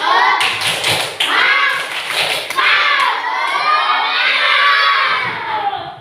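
Schoolchildren in an elementary classroom clapping and chanting together in a rhythmic spirit clap, loud bursts of claps alternating with shouted group chants, close and lively.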